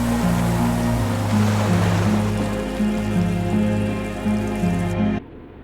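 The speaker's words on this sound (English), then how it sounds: "Water rushes below, far down below." Rushing water far below in the video game Disco Elysium, a loud, steady broadband wash layered over low sustained musical tones, cutting off abruptly near the end.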